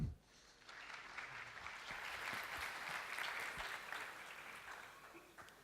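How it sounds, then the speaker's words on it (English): Conference audience applauds to welcome speaker Jesper Boeg at an agile conference: steady, dense clapping that rises quickly and holds at an even level throughout, with no voices over it. "please a round of applause for Jesper Boeg"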